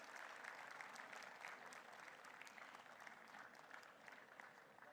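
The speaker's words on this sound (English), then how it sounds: "A louder applause, please." Steady applause from a seated audience at a hospital convocation ceremony, an even, moderately distant patter of many hands that holds for several seconds without talk.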